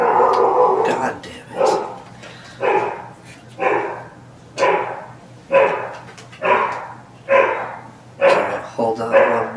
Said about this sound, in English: I believe the mailman is here. That's why the dogs are losing their shit.